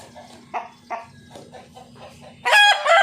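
A big heritage Rhode Island Red rooster clucks in short, spaced bursts, then breaks into a loud, close crow at the end over a low background hum.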